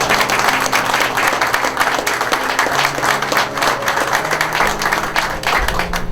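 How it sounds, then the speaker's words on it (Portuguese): An audience in church breaks into sustained applause, a dense, even wash of clapping from many hands that holds steady throughout the short stretch with no voices on top. "Você pode aplaudir ao Senhor?"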